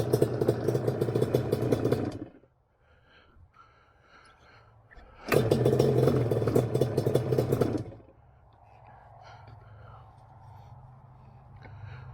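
A Yamaha Banshee 421 ATV engine runs in neutral in two loud bursts of rough revving and idling, separated and followed by quieter stretches of low engine rumble.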